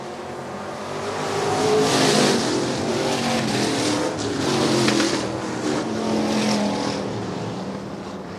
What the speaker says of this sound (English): And that hard running 1953 Chevrolet.